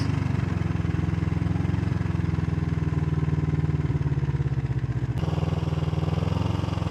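A 1973 Yamaha TX500 motorcycle engine runs on a dirt road, a loud, steady, close rumbling idle with a rapid even pulse throughout.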